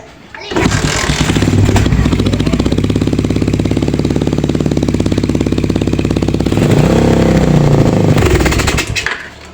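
A carbureted Raider 150 motorcycle engine warms up after sitting unused for a week. Close and loud, it holds a steady, rapid idle for about nine seconds. The revs rise and fall briefly near the end before it cuts off.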